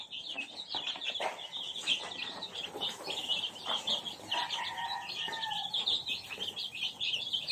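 Young chicks in a small brooder give a constant, dense chorus of high, thin peeping, many birds at once and fairly close, without any talking.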